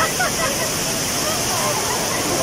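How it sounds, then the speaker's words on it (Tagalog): Taytay Falls pouring down, a steady, loud broadband roar of falling water that fills the whole moment close by, with voices faintly mixed into the rush. "Behind us is the falls."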